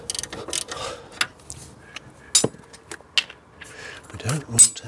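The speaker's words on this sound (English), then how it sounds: "Get out the trusty old snap-on ratchet." A Snap-on ratchet works a nut during a steering rack gaiter job on an Audi TT, with close, irregular metallic clicks and clinks of tool handling. Brief vocal sounds come through near the end.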